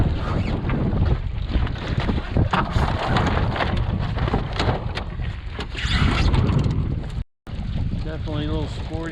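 Gusty wind buffets the microphone aboard a sailboat on Lake Erie on a chilly day, a steady loud roar with surging gusts, briefly dropping out near the end, while a voice speaks faintly underneath.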